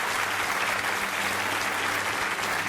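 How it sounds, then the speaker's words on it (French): At the end of a comedy show, an audience breaks into loud, dense applause that fills the room evenly from start to finish, with a low hum underneath. "Applaudissez-moi"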